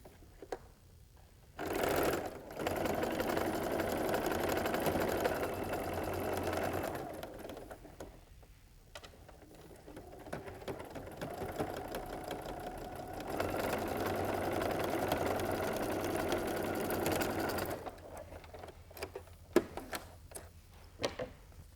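A sewing machine stitches a quarter-inch quilt seam in two long bursts of rapid, steady mechanical whirring, separated by pauses filled with quiet handling clicks and rustles.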